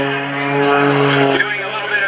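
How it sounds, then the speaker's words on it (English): A propeller aerobatic airplane rolls through a routine at a 2014 airshow over Greenwood Lake, its engine a steady, loud buzzing drone that shifts in pitch partway through the manoeuvre. "And he's rolling the airplane."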